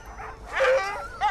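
Greenland sled dogs bark and whimper nearby in short, high yelping bursts, two or three quick calls in a row.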